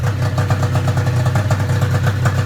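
A rebuilt Arctic Cat ZR 440 snowmobile engine runs on its first start with a steady, rapid, slightly uneven pulsing idle, loud and close, with a light mechanical clatter throughout.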